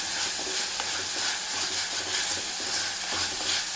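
Shallots being sautéed in a pan for a Kerala-style fish curry, a steady close sizzle with faint stirring scrapes, no voices.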